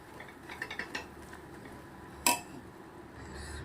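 An energy pak mixture being mixed in a pan with the gas off, heard as a few light clinks of a utensil against the pan, then one sharper metallic knock, over a faint steady background.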